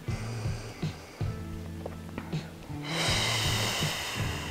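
Slow, deep breaths in and out, airy and close with soft nasal snorts, repeat at an easy pace during an upper-back self-massage exercise with a foam roller, ending in a longer, louder exhale.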